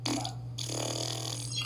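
A mouth-made fart imitation, a short buzzy blurt followed by a longer wet, sputtering raspberry, close and fairly loud over a steady electrical hum, with no talking.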